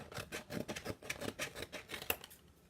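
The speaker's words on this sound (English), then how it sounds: "I'm just going to take my scissors and cut this apart." Scissors snip through a chalk stencil in a quick, steady series of short crisp cuts. The sound is close but quiet, with no talk.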